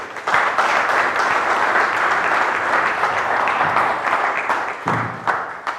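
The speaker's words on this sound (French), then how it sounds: "je demande qu'on applaudisse pour elles" An audience at a lecture on budgeting and financial forecasting breaks into sustained, steady applause, a dense wash of many hands clapping together for several seconds.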